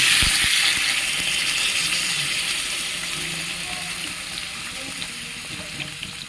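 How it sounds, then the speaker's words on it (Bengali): Water is poured into a pan of vegetables frying in oil for a fish curry, a loud splashing rush that settles into a continuous sizzle and bubbling. "দিয়ে দেবো কিছু পরিমাণ জল"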